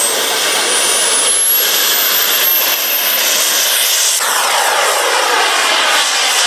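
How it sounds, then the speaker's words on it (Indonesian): Loud, continuous fighter jet engine roar with a rising high-pitched whine, steady and close throughout. "Di sini ada pesawat tempur."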